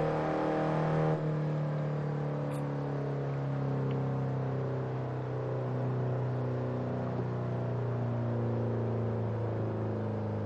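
A sports car's engine from Test Drive Unlimited 2 drones steadily, holding a loud, constant idle-like hum with no pause or drop to silence across the clip, and no talking over it.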